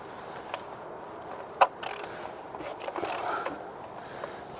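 Socket ratchet loosening a part on a high-mileage 2013-2018 Ford C-Max engine, giving a sharp click followed by a run of quick ratcheting clicks, close and fairly loud.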